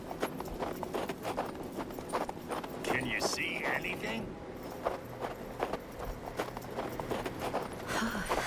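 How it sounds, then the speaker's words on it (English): Horse hooves clip-clop at a steady walking rhythm in the Western video game Hard West 2, a cold outdoor scene, with a voice speaking briefly over the hoofbeats. "Lucky we found these horses."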